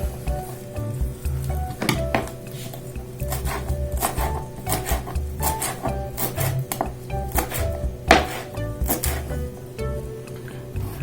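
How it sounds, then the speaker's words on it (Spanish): A knife chops fresh cilantro leaves on a cutting board, producing close, irregular bursts of sharp taps and scrapes with short pauses between strokes. "Entonces vamos a empezar por picar el cilantro"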